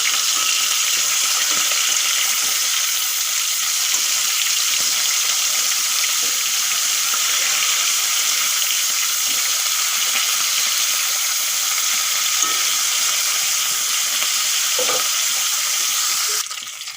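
Turmeric-and-salt-rubbed fish, just flipped in a pan of hot oil, keeps up a steady close sizzle with small pops, fading slightly at the very end; no talking.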